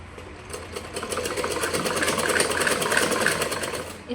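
A sewing machine runs steadily and close up, its needle stitching piping onto a designer blouse sleeve in a rapid, even mechanical whir.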